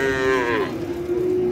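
A cow moos once, loud and close, at the Paragram (Hozrotpur) cattle market, with a drawn-out low bellow over a faint market murmur.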